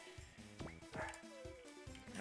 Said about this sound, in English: Sorry about the dogs. I don't know if you could hear them there,